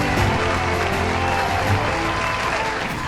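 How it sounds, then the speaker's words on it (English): Sustained, loud applause from a crowd, steady clapping filling the whole stretch without pause, with a faint murmur of voices mixed underneath. "Let's give him a round of applause."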